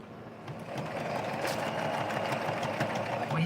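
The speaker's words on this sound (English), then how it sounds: "I'm just going to sew up everything else" A sewing machine stitching a homemade doll hums steadily and close by, with a fast, even mechanical chatter that runs the whole time without pause.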